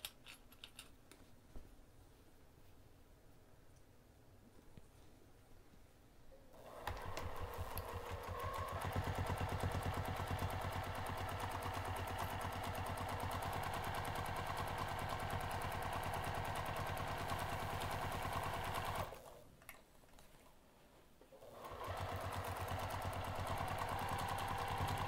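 A sewing machine stitches a pinned craft bag edge at a quarter-inch seam allowance, a quiet start giving way to long, steady runs of fast mechanical needle clatter with one short pause midway.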